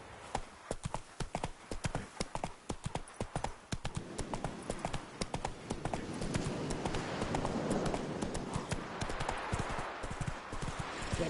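Roach the horse gallops in The Witcher 3, with fast, loud, rhythmic hoofbeats that thicken into a dense rumbling run under faint ambient sound.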